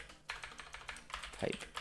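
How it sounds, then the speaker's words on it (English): Computer keyboard keys are pressed for a shortcut while working in After Effects: a handful of quick, close plastic clicks and taps in a quiet room, with no talking. "I'm going to hit Control Alt Shift and Y on my keyboard"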